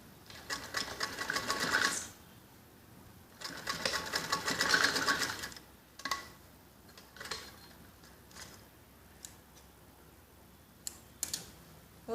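A sewing machine stitches piping around the neckline of a kids' top in two short close whirring runs, followed by scattered clicks and fabric handling.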